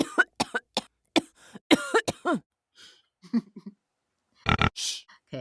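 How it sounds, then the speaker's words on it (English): A rapid series of sharp, close coughs and throat-clearing bursts, some with a rough vocal edge, is separated by brief pauses, followed by a final cluster of harsher coughs. "Cough, cough."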